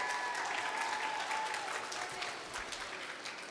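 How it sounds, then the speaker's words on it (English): Steady applause from a kids camp audience welcoming a speaker to the front, dense and continuous but fairly quiet and distant throughout. "So give him a round of applause as he comes at this time."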